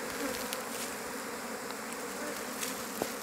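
Honeybees buzz inside a hive used for rearing queens on Ometepe Island, Nicaragua, a steady dense hum heard up close with no talk.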